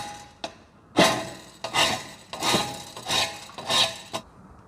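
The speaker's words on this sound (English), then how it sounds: "now it's just a matter of filing that edge off" Hand file rasping the freshly cut edge of metal trunking for a flat 90 bend, five rhythmic gritty strokes close up, each a harsh scraping burst, with no talk.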